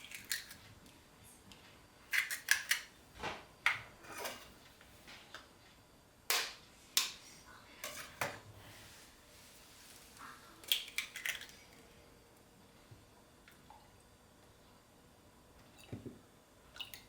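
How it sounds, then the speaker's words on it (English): Eggs cracked and whisked with a splash of milk on a plate for breading broccoli, heard as a series of faint, sharp clicks and taps in irregular bursts against quiet kitchen background. "On the second, crack 2 eggs and whisk them with a splash of milk."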